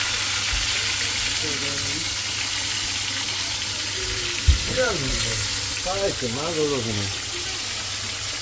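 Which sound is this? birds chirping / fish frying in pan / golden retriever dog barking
fish frying in pan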